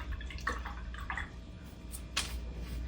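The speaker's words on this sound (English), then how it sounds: "So this time I am going to wash off my brush" An acrylic paintbrush is swished and tapped in a water cup, giving a few soft splashy drips and one brighter slosh near the end over faint room hiss.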